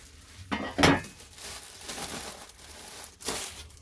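Plastic bags crinkling while Shapeoko XXL upgrade kit rails are unpacked, with sharp rustles and crackles close by and a couple of louder handling bursts.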